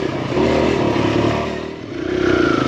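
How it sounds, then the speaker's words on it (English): A dirt bike engine revving hard while the rider pops wheelies on a trail ride, a loud close buzzing roar that rises, dips briefly, then climbs again. "Popping big old, big old wheelies."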